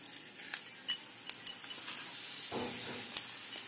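Mustard seeds and cumin crackle and sizzle in hot ghee in a kadai, a steady close fry broken by a few sharp pops and faint spoon scrapes.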